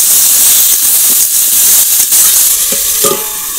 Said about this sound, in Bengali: এবার ঢাকা দিয়ে একটু সবজিগুলো ভাজবো